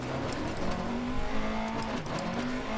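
A rally car engine from DIRT Rally 2.0 drones and revs continuously, its pitch climbing and dipping through gear changes, with faint tyre and gravel noise over the top.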